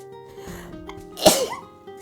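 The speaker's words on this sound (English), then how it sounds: "I need to sneeze" A single sharp sneeze bursts out near the end of a quiet indoor moment, loud and close, preceded by a faint soft sound.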